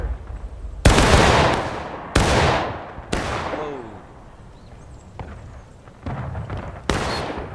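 Several loud, separate gunshot volleys ring out in War of Rights, a Civil War video game, each a sharp crack with a short decaying echo, spaced a second or two apart.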